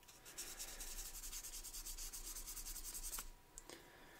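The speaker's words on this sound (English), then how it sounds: "We'll come back and do some finish sanding." Hand sanding of Tamiya putty on a small Hot Wheels die-cast car body, a quick run of light, rapid back-and-forth scratchy strokes, close and soft, ending with a couple of isolated taps.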